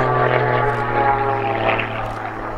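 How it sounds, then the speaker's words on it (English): Pitts Special aerobatic biplane with a Lycoming IO-540 engine performing at an RAF Cosford airshow, a loud steady propeller drone and engine buzz throughout, close by and continuous with no talk. "in fact a Lycoming IO 540 engine"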